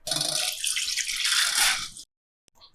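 Water drained from soaked rice pours and splashes steadily for about two seconds, close and loud, then stops, followed by a faint brief clink.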